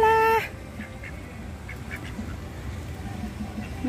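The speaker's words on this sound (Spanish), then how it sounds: "Miren cuánto pato anda por acá." Scattered duck quacks, soft and somewhat distant, over steady outdoor ambience, with a brief tonal sound at the very start.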